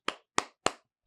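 Three slow, evenly spaced hand claps, crisp and close, with a short silence after the last one.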